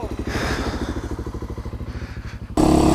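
An old motorcycle with an oil leak idles nearby, its engine putting out a rapid even loping pulse that ends in a sudden louder rough burst, no talk.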